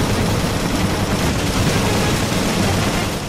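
Dense, continuous gunfire fills Resident Evil Revelations, a loud rapid burst of shots running without a break and with no talk over it.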